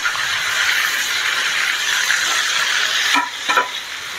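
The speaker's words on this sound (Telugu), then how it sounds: "ఆయిల్లో ఫ్రై చేస్తాము హై ఫ్లేమ్లో" Chicken wings deep-frying in hot oil on a high flame, a dense continuous bubbling sizzle up close, with a couple of brief clanks and rattles near the end.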